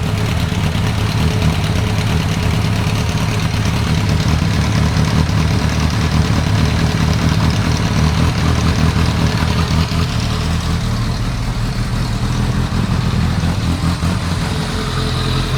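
A 2001 Kawasaki ZRX1200R motorcycle engine idles steadily and loudly up close, a continuous low rumble throughout with a slight shift in tone partway through as the idle rises.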